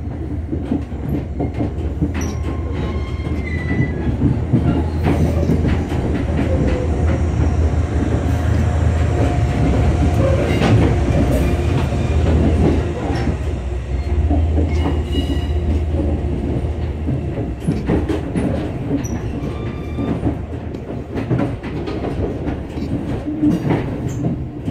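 An Amtrak Lake Shore Limited passenger train arrives at Albany, New York, rolling past the Amtrak yard with a steady, loud rumble and rhythmic clickety-clack of wheels on rail joints, with occasional faint wheel squeal, and no voices.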